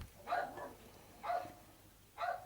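Fox terriers bark next door, three fairly faint, separate bursts about a second apart, each a quick double or single yap, heard at a distance over low background noise.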